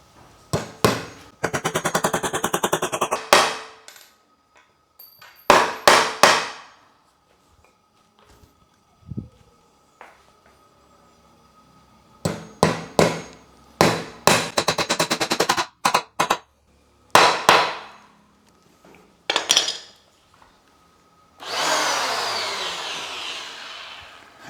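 An electric planer fitted with a Blackfoot K40 blade cuts into wood holding 5 cm nails, giving loud, rough bursts of cutting separated by quiet gaps, with a harsher final pass near the end.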